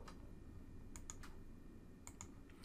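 A computer mouse clicks in design software during vertex drawing, with a few sharp, quiet clicks in two pairs around the one- and two-second marks over a low background hum.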